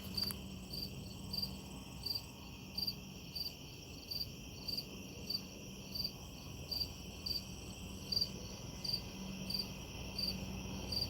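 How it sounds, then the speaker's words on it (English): Crickets chirp in a steady, regular pulse against a quiet nighttime background, the trills repeating evenly without any talking. "We'll listen to the crickets."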